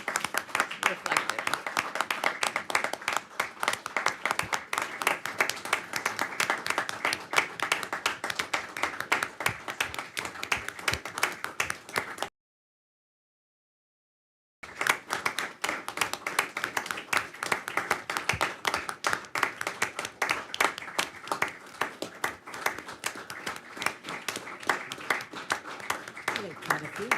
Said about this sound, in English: So we will applaud for the extra effort and quality service that you see reflected.